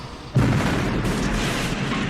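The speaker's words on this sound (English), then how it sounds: "Okay, well there was some explosion." A sudden loud film explosion from The Thing bursts in and rolls into a sustained, broad rumble that fills the rest of the moment.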